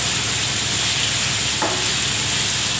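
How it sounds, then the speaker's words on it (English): Chicken pieces frying in a pan, a loud, dense, continuous sizzle and hiss close up, with a brief scrape partway through as the pieces are turned. "So just turn them as they fry, and you're sealing the juices in them and all the flavour."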